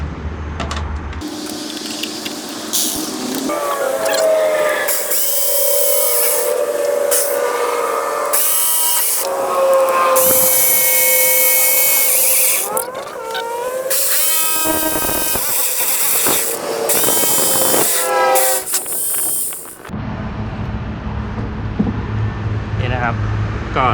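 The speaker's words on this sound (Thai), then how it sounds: "ก็ใช้เลื่อยจิ๊กซอตัด" A jigsaw cutting wood whines and buzzes in repeated bursts, pausing between cuts, loud and close.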